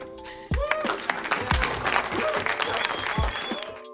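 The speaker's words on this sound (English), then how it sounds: "Their peers applaud them." Applause from a group of peers in the werewolf horror film Ginger Snaps, steady clapping mixed with music and other film sound, with loud low thumps landing about once a second.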